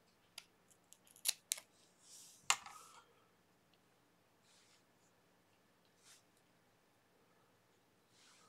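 Cutting off excess material with scissors during a DIY burglar alarm build from coffee cans and a 3V DC motor, heard as a few quick close snips and clicks, then faint scattered ticks in a quiet room.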